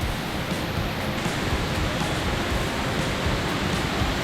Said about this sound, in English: we are having so much water today on the waterfall.